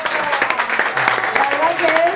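Applause at a summer dinner event, a crowd clapping steadily with voices and chatter mixed in over it.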